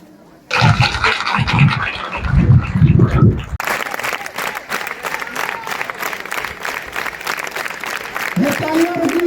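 Audience applause at a public gathering, a dense burst of clapping from a crowd that swells and continues steadily, with voices mixed in.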